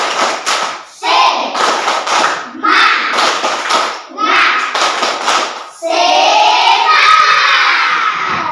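A class claps together in a rhythmic spirit clap, tepuk semangat, in short bursts separated by brief pauses. Shouts and cheers of children mix in. A longer, louder stretch of clapping and voices closes it.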